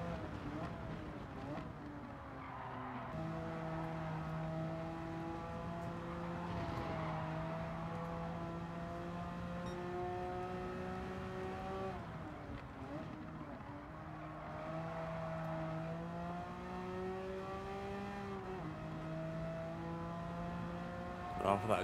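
A Porsche race car in the racing game Gran Turismo 7 drones through long steady engine tones that rise and dip with gear changes over a full lap, a continuous synthetic-sounding engine note with a voice talking over it.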